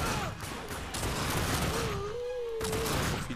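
Rapid gunfire bursts from The Darkness II shooter game fill the scene, dense and continuous over a steady backdrop of game sound, with a faint voice briefly present.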